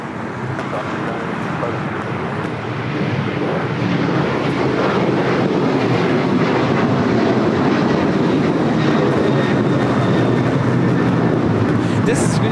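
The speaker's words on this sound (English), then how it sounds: "279 taking off to Tampa on the 737-900ER" United Airlines Boeing 737-900ER taking off at LAX, a loud continuous broadband jet roar building early and holding steady throughout.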